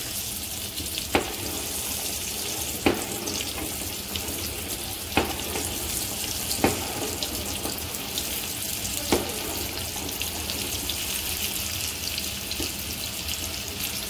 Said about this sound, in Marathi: आता आपण याला छान तळून घेऊया